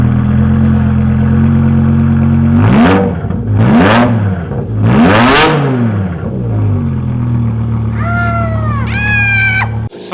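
BMW E63 M6 with the S85 V10 and an Eisenmann race axle-back exhaust with X-pipe, idling loudly up close with a deep steady burble, then three short revs that rise and fall, followed by a brief sharp rising whine near the end.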